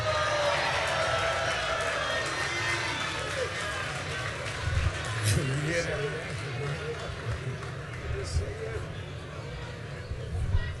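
A large, friendly audience at a National Action Network event cheers and applauds to greet Morning Joe host Joe Scarborough, a broad sustained roar of voices with a speaker talking over it.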